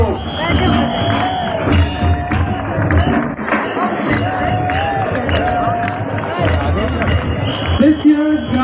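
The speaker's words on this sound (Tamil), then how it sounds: "எல்லா வீரர்களுக்கும் கரகோஷத்தை எழுப்பி என்ற உற்சாகத்தை ஊக்கப்படுத்துவோம்" A large crowd cheers and shouts in encouragement for players at a big village games festival in Coimbatore, a steady loud roar of many voices running throughout with swells of whooping.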